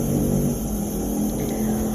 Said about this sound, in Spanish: pasó una moto